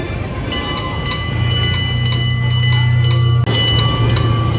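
A roller coaster train at Six Flags Great Escape rumbles nearby on its track with a loud, steady mechanical drone. Rhythmic clicks and clacks repeat throughout.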